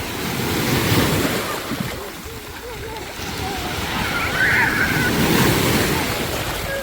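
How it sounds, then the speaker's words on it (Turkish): Sea waves wash and break on a beach in a steady rolling surge, with wind buffeting the microphone and voices of people and children in the background. "Çocuklara dalgalar oyun oldu."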